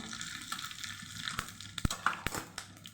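Mustard seeds added to hot oil for tempering dal, with cinnamon and cloves already in the pan, giving a faint, close sizzle broken by a few small sharp pops and crackles.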